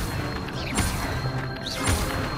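An Incendio fire spell cast in Hogwarts Legacy: two sharp, crashing bursts about a second apart, each with a whooshing sweep, set over a steady busy game background.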